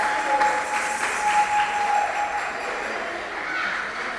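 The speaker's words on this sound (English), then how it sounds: "Let's give them a round of applause." Audience applause at a quiz championship grand finale, steady clapping that holds at an even level for several seconds under a faint tonal ring, with possible voices mixed in.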